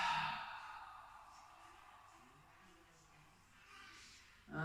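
A person breathes out slowly during a beginner Pilates exercise, one long soft exhale that fades, close and quiet, ending with a faint sharp intake.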